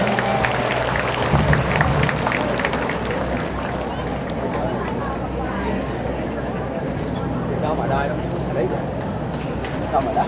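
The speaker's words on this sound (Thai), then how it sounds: "ขอเสียงปรบมือให้นักกีฬาทั้งสองท่านอีกครั้งนะครับ" Crowd applause at a provincial health sports festival in Phatthalung, honouring two track athletes who won gold in the men's 400 m and 800 m, a steady continuous wash of clapping with voices mixed in.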